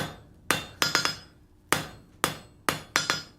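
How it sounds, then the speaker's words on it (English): Hand hammer striking hot steel on the flat face of an anvil while tapering a scroll end, ringing metallic blows in irregular pairs and singles, loud and close with short decays. "hammering right on the flat of the anvil"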